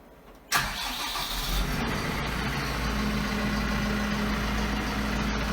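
A Başak 5120 tractor engine cold-starts with a sudden loud catch, then settles into a steady, rough diesel idle running close by, with no talk over it.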